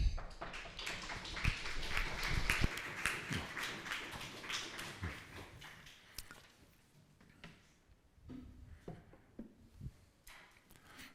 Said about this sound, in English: a warm applause for Professor Dr. Joerg Fingerhut.